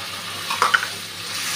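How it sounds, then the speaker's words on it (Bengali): Masala of chilli powder and turmeric frying in a pan for a dry-fish and potato curry, as an even close sizzle broken by a brief scrape of the spatula midway, with no voices. "মশলাটা খুব ভালো করে ভেজে নিয়েছি"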